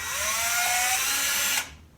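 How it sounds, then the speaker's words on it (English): A power drill bores up through a ceiling, its steady, loud whine running for about a second and a half before cutting off abruptly. "drill right through the ceiling"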